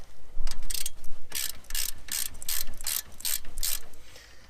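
A ratchet loosens caliper bolts during a front brake replacement on a Mazda 6, giving a steady run of loud, close clicking strokes in a regular rhythm with no talk.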